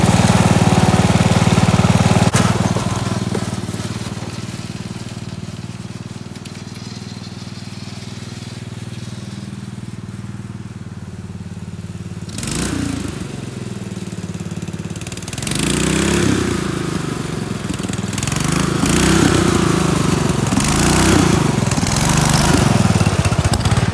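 A racing lawn mower's engine runs after the mower has sat for more than five years. It holds a loud, steady idle that dips briefly, then revs up and down in rising, wavering surges toward the end.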